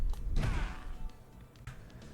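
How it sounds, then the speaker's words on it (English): Forsburn's Combust from Rivals of Aether 2, a high-knockback explosion around the fighter's body, lands as a heavy thudding burst that swells and fades over the first second, followed by quieter game sounds and a later softer impact. "Combust is a high knockback explosion that has a hitbox that covers around his body"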